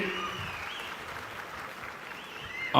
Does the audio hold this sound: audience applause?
yes